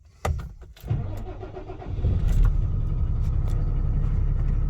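An 18-ton truck's engine starts with a sharp mechanical thump and settles into a loud, close, steady diesel rumble that holds as it gets ready to pull away. No one speaks.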